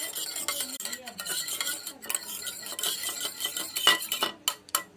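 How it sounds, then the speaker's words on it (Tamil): A broken egg is beaten for an omelette, with rapid scraping and tapping of a utensil against a bowl in an irregular rhythm, close up and without talk. "ஒரு நல்ல முட்டையை எடுத்துக்கலாம். உடச்சி ஊற்றிட்டு மிக்ஸ் பண்ணிக்கலாம்"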